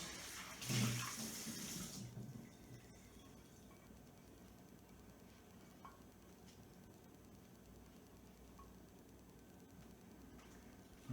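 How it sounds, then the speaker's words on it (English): A bowl is rinsed under running tap water: a short, close splashing gush in the first couple of seconds, then only faint room hiss. "I'm going to rinse this bowl out"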